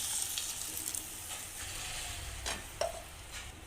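Fenugreek leaves and ground masala sizzle softly in a pan, with a quiet steady frying hiss and a few scraping stirs of a utensil close by.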